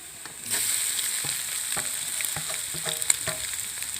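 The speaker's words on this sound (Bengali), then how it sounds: "গ্রেট করা আলু আর ডিমটা আমি দিয়ে দিচ্ছি কড়ার মধ্যে" Grated potato and egg dropped into hot oil in a wok set off a loud, continuous sizzle, with intermittent scraping and stirring clicks from a spatula close by and no talking.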